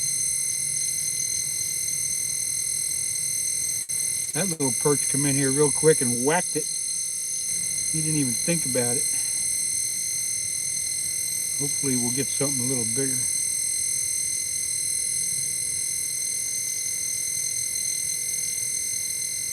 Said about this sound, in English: That's the flasher there that's making the sound.